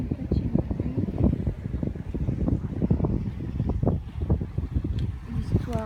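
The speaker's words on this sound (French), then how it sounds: "j'espère que tu arriveras à entendre malgré le vent" Low, gusty wind buffeting the microphone with rumbling bursts throughout, steady and fairly loud with no clear talk.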